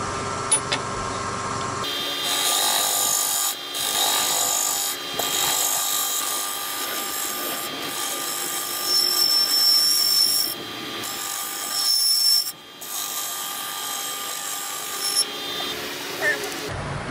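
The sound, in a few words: half round rasp skimming inside of maple vessel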